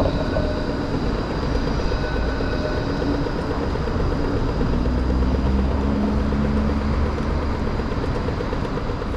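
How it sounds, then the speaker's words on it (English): A Melbourne E-Class tram rolls in along city street tracks, a steady loud rumble of wheels and motor with a rhythmic clatter over rail joints, close by and without speech. "here comes an E-Class."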